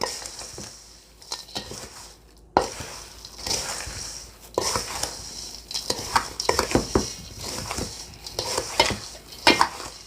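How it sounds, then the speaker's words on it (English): Dry stuffing mixture for roast quail is stirred in a pan with a utensil, giving close scraping and clinking strokes in irregular bursts with brief pauses between them, with no voices. "We'll take our dry mixture, mix it up just a little bit from the bottom on up."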